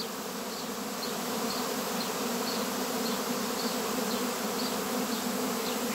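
A dense, continuous hum of a honeybee swarm buzzing around a hive, many insects droning together at an even, steady level with no pauses or voices.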